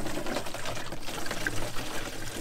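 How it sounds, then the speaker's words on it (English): Water running from a small outdoor drinking-fountain tap at a van stopover in Portugal, a steady trickling, splashing flow heard up close with no talking. "we've got a little water fountain tap thing here, right by our park up"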